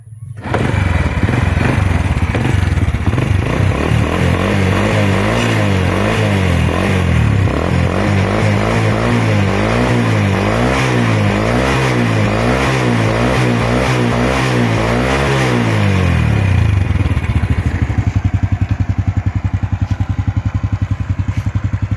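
An original, stock Honda Wave 100 motorcycle engine with a dry exhaust revs hard and climbs up through every gear, the pitch rising and dropping with each shift before settling into a steady idle, loud and close with no talking.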